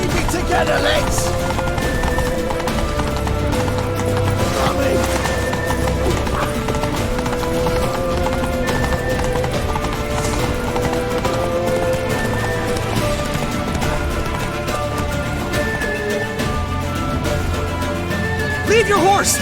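Horses gallop in a medieval-style video game, a dense, steady clatter of hooves that lasts throughout. Music, battle noise and shouted voices layer over it, with an occasional whinny.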